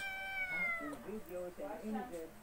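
A black Persian kitten gives a long, falling meow followed by several short, quick mews, close and fairly soft.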